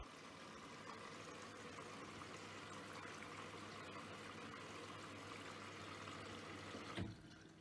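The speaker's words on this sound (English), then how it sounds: "Now I can just hear it taking the liquid detergent from the dispenser drawer." A Bosch Serie 4 VarioPerfect washing machine drawing liquid detergent from its dispenser drawer as water fills, a steady trickling rush with a low motor hum, ending in a short clunk.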